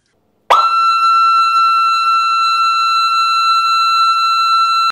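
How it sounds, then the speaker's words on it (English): Steady continuous electronic siren tone from a Moose MPI-11 siren driver, starting abruptly and holding a loud, unwavering pitch close to the source with no talking. "Steady would sound like this."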